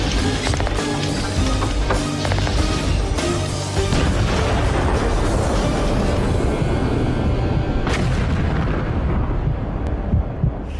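A captured German anti-aircraft gun fires in a battle scene, with loud, dense booms and blasts rolling together into a continuous roar of artillery that never drops away.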